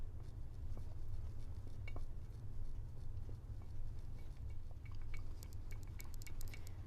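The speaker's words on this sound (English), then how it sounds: "we're going to mix it and add the milk at the same time, little by little" Cake batter being stirred in a bowl as milk is poured in little by little, soft steady scraping and occasional light clinks of utensil against the bowl under a low background hum.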